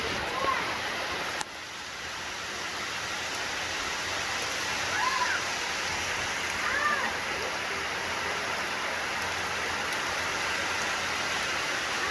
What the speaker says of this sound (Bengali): কি জোরে বৃষ্টিতে নামলো, মুষলধারে